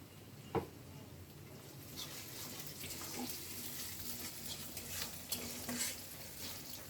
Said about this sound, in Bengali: এখানে আমি মশলাটাকে কষাই নিব।